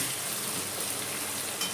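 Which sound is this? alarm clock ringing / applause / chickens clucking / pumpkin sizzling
pumpkin sizzling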